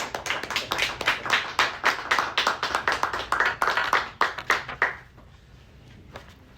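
A lecture audience claps for about five seconds, distinct fairly close hand claps in an uneven rhythm that die away abruptly into near silence with one stray clap afterward.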